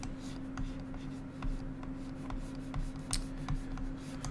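A pen scratches out a rough sketch on paper at a desk: steady, close strokes with small repeated ticks over a low, constant room hum, with no talk.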